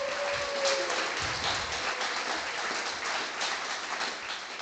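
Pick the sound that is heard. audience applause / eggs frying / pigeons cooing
audience applause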